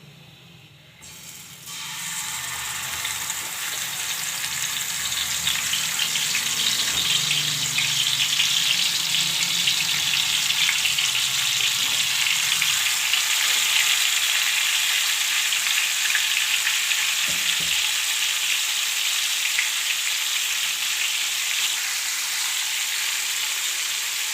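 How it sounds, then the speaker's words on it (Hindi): Marinated chicken hits a hot tawa with a sudden loud sizzle that then holds steady and dense for over twenty seconds, with faint clinks and scrapes underneath and no talking. "इसको तवे के ऊपर डाल देंगे"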